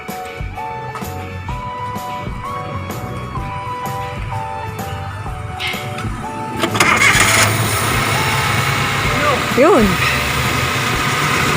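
A car engine cranks and catches during a home repair call in Marikina, where the car has power but it is weak. It settles into a loud, steady idle close by while people talk over it.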